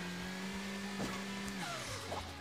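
A vehicle engine in Hill Climb Racing 2 accelerating: a steady droning tone climbs and shifts pitch as the car revs up, fairly quiet, with no voices.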